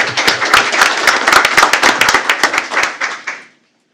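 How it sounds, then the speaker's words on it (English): Close, crisp applause at a school board meeting, individual hand claps distinct and rapid, holding for about three seconds before tapering off into silence. "Let's give Mr. Cowan a big round of applause."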